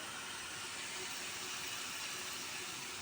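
Potatoes frying in oil in a small pan on a stove: a steady, faint, even hiss and crackle with no talk over it.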